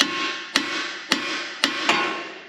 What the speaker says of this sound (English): I'm going to take the hammer and just smack right here to loosen that up.